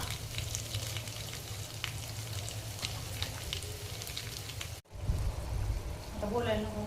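Spice paste of garlic, coconut, curry leaves and masala frying in oil in a home kitchen for a drumstick dish, a steady close sizzle broken by a brief silent cut, then resuming with a voice talking over it.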